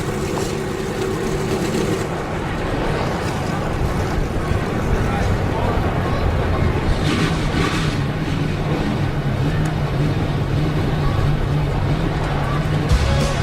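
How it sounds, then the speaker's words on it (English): NASCAR trucks idle before a 2017 Truck Series race at Pocono, a steady, dense engine rumble mixed with wind buffeting that stays loud and unbroken throughout. "The trucks are fired, just about ready to go racing."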